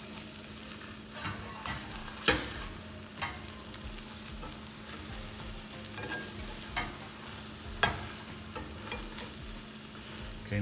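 Chorizo and eggs fry in a pan after being flipped, a steady sizzle with occasional sharper clicks of a utensil against the pan, close and continuous with no talking.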